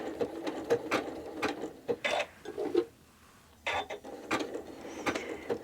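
A sewing machine stitching an appliqué flower block, running in short close bursts with brief pauses between them, including one longer stop partway through.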